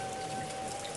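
Heavy rain pours down steadily in a cartoon scene, a dense continuous hiss of falling water filling the clip with no voices.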